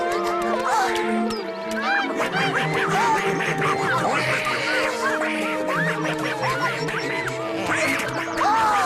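A duck quacks repeatedly in loud, close, overlapping calls, nearly continuous, with a busy animated-cartoon background of music and effects underneath.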